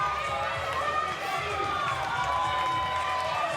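A crowd cheers and roars continuously at a club rugby sevens final, a dense, sustained wash of voices with no clear breaks.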